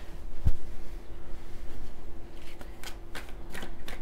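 Tarot cards being shuffled by hand in a quiet room, a soft continuous riffling with a sharper slap near the start and faint crisp flicks toward the end.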